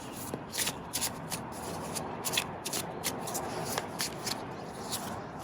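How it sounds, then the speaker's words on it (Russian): Tarot cards shuffled and handled close by: continuous papery riffling with repeated crisp flicks and slaps, quiet and steady, without speech. "Теперь возьму с этой стороны тоже две карты, детально посмотрим."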